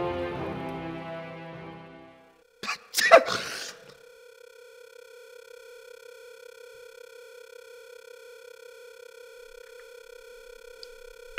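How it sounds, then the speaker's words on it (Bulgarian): A man gives a single sharp sneeze, a short close burst after a held tone fades out, followed by a long steady electronic tone and quiet background with no talk. "Чухте ли го? Той кихна."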